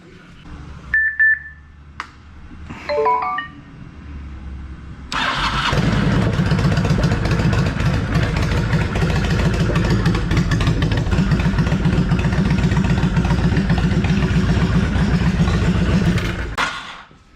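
A few short beeps, then a 2006 Honda VTX 1300 motorcycle engine cranks and catches at about five seconds, settling into a loud, steady idle that runs up close until it shuts off near the end.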